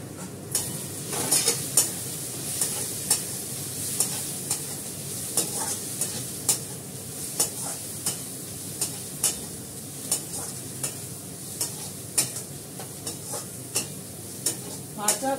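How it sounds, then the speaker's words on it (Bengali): Fish heads fry in a small amount of oil, giving a steady sizzle while a spoon scrapes and stirs the pan in regular rhythmic strokes, close and clear, with no voices. "মাথাগুলো ভেজে নিলাম, অল্প তেলেই করছি কারণ মাথা থেকে তেল বেরোবে।"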